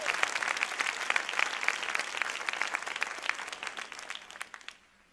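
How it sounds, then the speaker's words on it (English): A church congregation claps in praise during a sermon, a steady and fairly even wash of applause that carries on for about five seconds, then trails off quickly into quiet. "Give God a hand clap of praise for that blessing."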